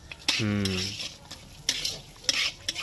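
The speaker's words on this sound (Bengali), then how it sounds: "এবার আমি দিচ্ছি কিশমিশ কাজু এটাকেও একটু ঘিয়ের মধ্যে ভেজে নেব" Raisins and cashews sizzle and crackle in hot ghee, with a sharp burst as they drop in and occasional stirring clinks of a utensil against the pan.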